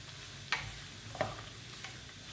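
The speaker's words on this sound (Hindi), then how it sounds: "और इसको भून लेंगे।" Semolina roasting with cardamom and fennel in a pan for jaggery halwa, a soft dry sizzle under a few sharp scrapes of a spoon against the pan.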